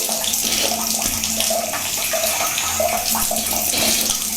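Tap water pours without pause during the ritual washing before prayer, a loud, near hiss with small splashes as water is taken into the hands, and no talking.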